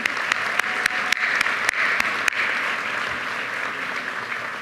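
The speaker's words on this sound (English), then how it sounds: "Absolutely, give them a round of applause." Audience applause for award honorees at a regional philanthropy awards event, a steady clapping crowd with a few sharp, close claps standing out early on.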